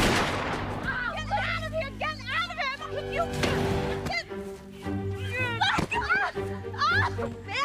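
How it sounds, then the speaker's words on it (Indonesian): A gunshot in a film scene as a woman shoots another woman in the knee outside a house, a few sharp cracks mixed under a narrator's voice, film dialogue and music. "tiba-tiba saja Pamela sudah ada di sana dan menembak lutut Helen"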